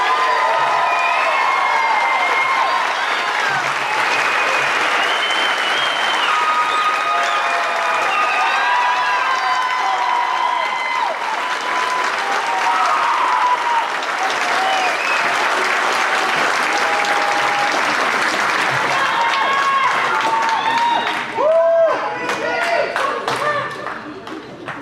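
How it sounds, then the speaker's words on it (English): A graduation crowd applauds and cheers for the graduating class of 2026, with sustained clapping mixed with whoops and shouts throughout and some voices rising above the din near the end. "Let's clap it up for the class of 2026."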